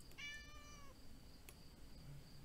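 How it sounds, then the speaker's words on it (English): Short run of cat meows in the video game Sophia the Traveler: a few close, clear mewing calls near the start, then quiet game ambience with a faint high tone. "Little cat."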